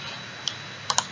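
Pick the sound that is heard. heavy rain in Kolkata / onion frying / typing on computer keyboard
typing on computer keyboard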